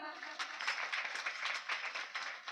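A crowd claps together at a village kirtan during a harinam saptah. The dense, continuous applause lasts a few seconds and is fairly close.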